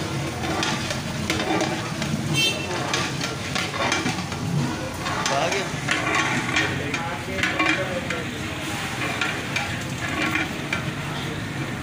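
Milk being stirred as it boils over a lowered flame in a large 35-litre pot for Kashmiri pink chai, with steady bubbling, hissing and scraping of the spoon close by, continuous throughout.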